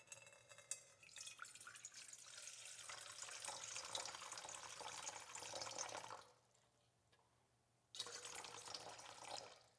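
Warm water pours from a tap for bread dough, a steady splashing stream that cuts off briefly and then resumes, moderately close.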